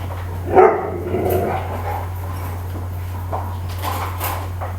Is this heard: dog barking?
yes